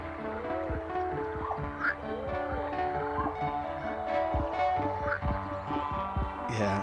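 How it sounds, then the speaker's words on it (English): Chirping, warbling electronic bird calls built from oscillators ripple above a steady pulsing synth bed, with repeated short gliding tones scattered throughout. "we're going to make our birds with oscillators. Make some bird sounds."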